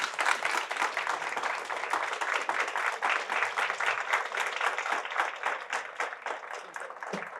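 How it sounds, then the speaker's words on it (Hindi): An audience claps to welcome a guest, a dense, steady wash of many hands clapping at close to middling distance, sustained for several seconds with slight tapering near the end. "ढंग से ताली बजाओ यार"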